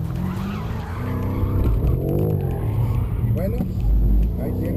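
A rear-wheel-drive supercar with stability control switched off skids, its tires squealing in wavering bursts over a loud, steady engine drone, close up, while someone talks over it.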